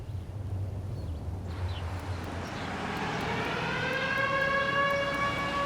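A tornado alert siren in Jasper County and Joplin, Missouri, rising in pitch into a steady, far-off outdoor wail over a low background rumble.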